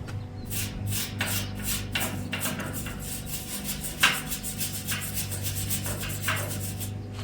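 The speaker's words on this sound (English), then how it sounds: "Got a wire brush action here." A wire brush scrubs expanded metal decking on a utility trailer ahead of welding repairs, a loud rhythmic rasping of repeated strokes with one sharper knock midway and no talking.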